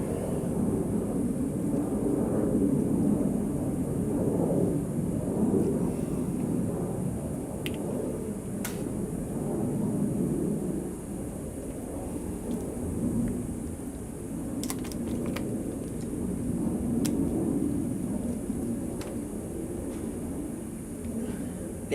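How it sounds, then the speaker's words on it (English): Loud airplanes pass overhead as a continuous deep roar that swells and fades across the whole stretch, with faint scattered clicks and no talk. "Damn, these airplanes that fly over"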